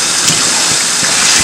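Beef stock poured from a container into a cooking pot in a home kitchen, a steady soft gushing splash running continuously, close and alone.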